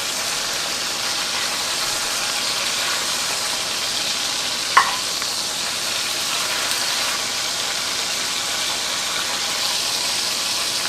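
Oxtail browning in a hot pan for a Southern-style recipe, giving a steady, even sizzle and frying hiss with one brief clack partway through and no talking.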